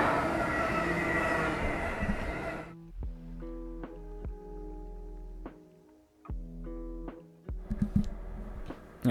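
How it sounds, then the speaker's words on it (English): Trains pass by outdoors, their rumble and rhythmic rail clacks in a string of sharp repeated knocks, with a steady low drone and squealing tones, fairly close and loud. "There's some trains passing by."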